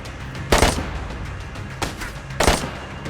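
Loud gunshots in a DayZ firefight crack out in three sharp, spaced bursts over a constant low rumble of background noise.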